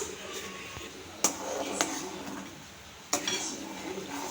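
A spoon stirs a semolina and vegetable dish in a pan after salt is added, with a few distinct metallic clinks against the side amid soft scraping, close and fairly quiet.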